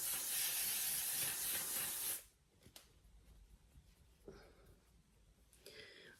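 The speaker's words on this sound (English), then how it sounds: "This is the L'Oreal Infallible 3-Second Setting Mist." A L'Oreal Infallible 3-Second Setting Mist sprays in one loud, steady hissing burst of about two seconds, then cuts off, leaving quiet room noise with a few faint handling taps.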